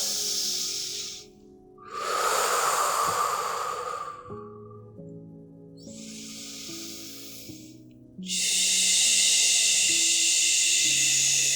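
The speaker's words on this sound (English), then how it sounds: "Let's take 3 big nourishing" Slow, deep breaths taken during a pregnancy yoga session, loud, close whooshes of inhaling and exhaling with pauses between them, heard over soft background music.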